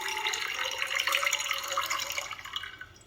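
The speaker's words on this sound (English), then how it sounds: "We'll pour out the tap water first" Tap water poured out of a container into a sink, a steady splashing, trickling stream that stays fairly even and close before thinning out at the end, with no one talking.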